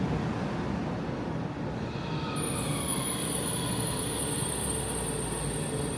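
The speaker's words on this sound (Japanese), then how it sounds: "ドラえもんが近づいてきてくれているようで胸が高鳴ります。" A Doraemon-themed tram approaches on street rails in Takaoka, Toyama, a steady rolling rumble joined midway by a thin, sustained high wheel squeal as it draws closer, with no talk.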